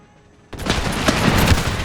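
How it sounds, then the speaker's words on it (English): A cannon barrage in the video game Empire Total War bursts in after a short quiet moment, with a dense roll of booming shots that keeps going loud to the end. "Ordering a barrage of cannon,"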